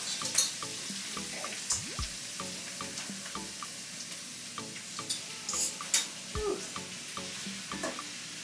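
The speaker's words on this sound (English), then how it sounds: "So, we just cook up that a bit, and then we will throw the meat." Taco meat with onion and garlic cooking in a pan, a quiet sizzle broken by repeated clinks, scrapes and stirring knocks, fairly close and faint overall.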